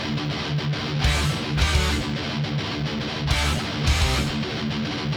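A thrash metal song plays: dense distorted guitars and pounding drums in a driving rhythm with crashing cymbal accents, loud and continuous.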